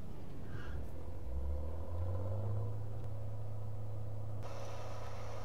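A Claas Dominator 108SL combine harvester engine in a farming video game rumbles steadily like a heavy diesel, its low drone shifting in pitch as it labors, with a brief higher whine near the end.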